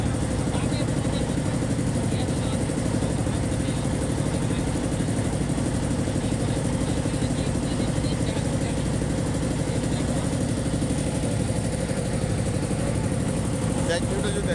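A trawler boat's engine drones steadily and loudly on the Buriganga river at Dhaka, a constant low chugging rumble that runs unbroken from start to finish.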